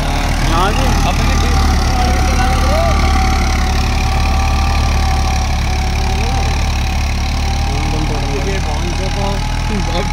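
A Massey 5245 46HP tractor runs a deluxe rotary tiller, its engine drumming steadily and loudly close by with a low rumbling throb, while voices talk over it throughout.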